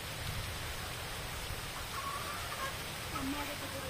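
Rain falls in a steady, soft wash of hiss, faint and even throughout, with a few faint bird calls in the background.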